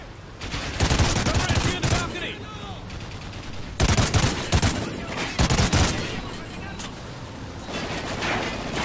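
Sustained machine gun fire and bursts of gunfire from the video game Call of Duty: Ghosts rattle continuously and loudly, with a person talking intermittently over the shooting.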